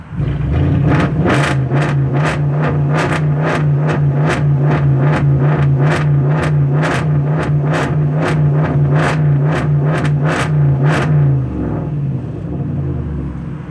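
A 2018 BMW motorcycle engine revs loudly and close up in a steady series of sharp throttle blips over a constant idle drone, about twenty bursts in a row, before the engine cuts off and falls quiet.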